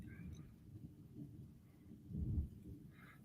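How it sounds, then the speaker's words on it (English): Outdoor thunder from a passing storm rolls as a low, faint rumble heard from indoors, swelling once briefly, with no talking over it. "Y'all might hear all the thundering out there."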